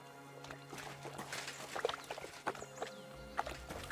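Irregular hoof clops of a mare tapping along at a brisk pace in the video game Kingdom Come: Deliverance 2, fairly faint, with a soft watery background and no talking.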